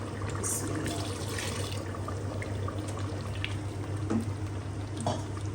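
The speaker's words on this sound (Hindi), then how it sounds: "तो यहाँ पे मैं थोड़ा सा पानी ऐड करूँगी यानी कि वो मसाले वाली थोड़ी सी बनेगी" Water is poured into a pan of masala being cooked, giving a steady, close, continuous splashing rush with a few brief brighter splashes and no talk.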